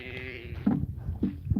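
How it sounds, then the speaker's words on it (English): Low, moaning sheep bleats come in short bursts, close by in a barn, with some breathy background noise between calls. "The sheep are moaning."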